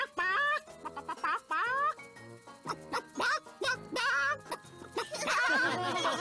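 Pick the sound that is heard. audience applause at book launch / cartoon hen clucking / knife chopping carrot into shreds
cartoon hen clucking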